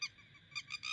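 An unknown bird calls near a tent on a hilltop at night, with one brief call followed by a quick run of three strident, hooting cries close by in otherwise still surroundings.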